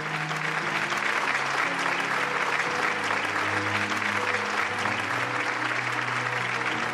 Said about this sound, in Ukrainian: Гучні оплески заполонили увесь зал.